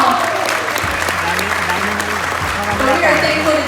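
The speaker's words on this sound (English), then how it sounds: "If that's your spouse, can you give them a round of applause?" Audience applause for spouses at a church gathering, steady clapping mixed with crowd voices and a voiced cheer over a low background hum.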